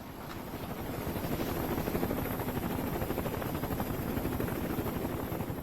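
A helicopter's rotor chops in a steady, rapid rhythm, loud and close, growing slightly louder before holding level.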